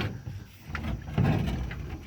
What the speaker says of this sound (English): That door latch obviously doesn't work. And those hinges are very unhappy.